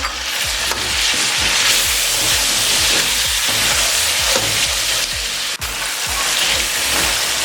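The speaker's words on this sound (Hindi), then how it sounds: "1 से 2 मिनट के लिए इसको भी फ्राई कर लेंगे।" Tomatoes and finely chopped green chilies frying in a pot for chicken pulao, a loud constant sizzle with rhythmic stirring scrapes repeating every half second or so.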